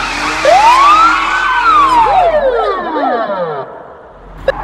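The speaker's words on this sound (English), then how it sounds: "This is an American police car." American police car siren: a loud, close wail that rises and slowly falls, then breaks into quicker up-and-down yelping sweeps before fading, with a brief click at the end.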